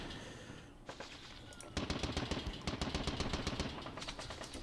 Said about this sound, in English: Machine guns can still reach these units.